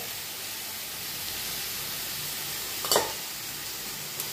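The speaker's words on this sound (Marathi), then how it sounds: "आता याला फिरवून घेऊ, छान एकजीव करून घेऊ" Chaat masala, turmeric and coriander powder being stirred in a pan over a low flame, a steady soft sizzle and hiss with one sharp scrape near the end and a faint tap after it, no talking.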